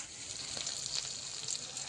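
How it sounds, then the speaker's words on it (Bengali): Onion, garlic and slit green chillies frying in a wok, giving a soft, steady crackling sizzle with small popping spikes, fairly quiet and close, with no voices. "কড়াইতে পেঁয়াজ রসুন চেরা কাঁচা লঙ্কা দিয়ে দেবো"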